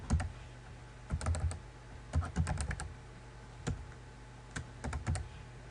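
A password is typed on a computer keyboard in short clustered bursts of quiet key clicks separated by pauses, close and alone over faint room hiss.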